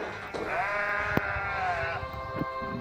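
Sheep bleating in the video game Deer Simulator: a single long, wavering bleat up close, with a couple of short thumps and clicks around it and no talking.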